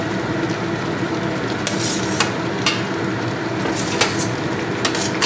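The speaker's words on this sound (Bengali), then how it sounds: "নিয়ে আমি এখানে ভেজে রাখা চিংড়িগুলো দিয়ে দেবো।" Fried prawns tipped into the cleared middle of a wok of pumpkin-stem vegetables, giving a steady close sizzle with several sharp clinks and scrapes of a spatula against the pan.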